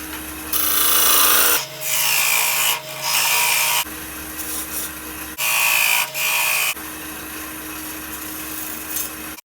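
A wood lathe turns napkin rings at about 1600 RPM, giving a loud, steady whirring hum broken by scraping cuts and short pauses, close by.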